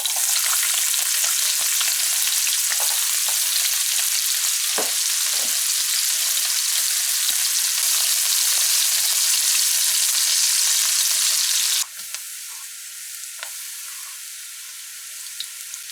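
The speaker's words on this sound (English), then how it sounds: "So we've added some oil to start cooking our fried rice." Oil and fried rice sizzling steadily in a pan for a 50th birthday meal, a loud, continuous broadband hiss with occasional stirring scrapes, softening abruptly near the end.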